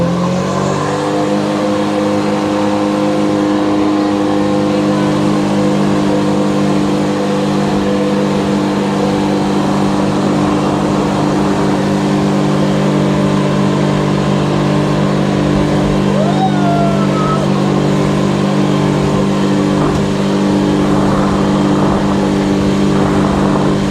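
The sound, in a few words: jet ski engine revving as throttle is raised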